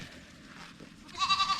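Nigerian Dwarf goats bleat in a short burst near the end of an otherwise quiet outdoor moment in a garden, a few close, wavering calls rising over faint background sound.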